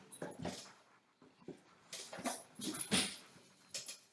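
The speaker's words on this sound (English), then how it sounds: "There's a chihuahua in my way." A chihuahua whimpers and yips in short, uneven bursts close by, with faint rustling in the quiet gaps between the whines.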